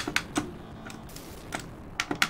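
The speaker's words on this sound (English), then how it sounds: "I wouldn't call them clicky, I'd call them bangy." Buttons on a retro arcade plug-and-play controller pressed in loud, banging clicks, several quick presses in irregular bursts, close up with no talking.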